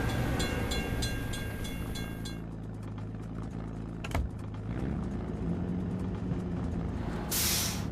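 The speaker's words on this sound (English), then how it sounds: "We have to wait for the train to pass." A train rumbles past a closed crossing gate in a cartoon-style scene for kids, a steady loud rolling din with a bell-like ringing at first, a sharp clank midway and a hiss near the end, with no talking.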